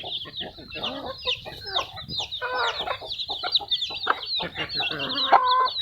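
Several chickens cluck and chatter continuously nearby, overlapping short calls and squawks forming a busy, irregular flock noise.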